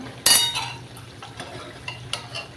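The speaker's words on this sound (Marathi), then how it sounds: "मसाला असं तेल सुटेपर्यंत परतवून घ्यायचा चांगला." Mutton masala stirred and sautéed in oil until the oil separates, a loud sizzling burst at first, then a spoon scraping the pan with a few metallic clinks, close and unaccompanied by talk.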